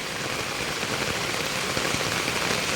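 Continuous heavy rain falling on a flooded road makes a dense, steady hiss and patter, close and unbroken, with no voices.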